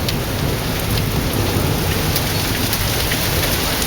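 Marble-size hail falls continuously in a thunderstorm in Waco, a dense, steady patter of ice striking surfaces close by, loud and unbroken, with no voices.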